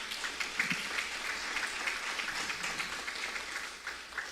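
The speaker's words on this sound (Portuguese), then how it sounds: "Aplaude a Deus, aplaude." A church congregation applauds steadily during a sermon, a dense patter of clapping that continues evenly at moderate, somewhat distant volume.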